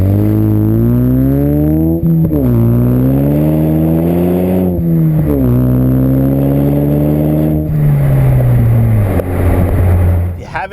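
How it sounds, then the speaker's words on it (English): A Ford Mustang EcoBoost fitted with a MagnaFlow Street Series cat-back exhaust revs repeatedly, a deep, rich drone climbing and falling in several rising sweeps, loud and close, with a voice talking over it. "it's that deep, rich tone that you're kind of used to from MagnaFlow exhaust"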